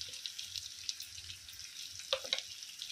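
Prawns frying in a pan with chili powder give a soft, steady sizzle with faint crackle, punctuated near the end by a couple of sharp clinks of a utensil against the pan.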